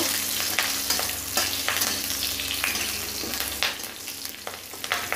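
Bay leaf, dried red chillies and green chillies frying in hot oil, a continuous close sizzle with occasional spatula stirs and pops.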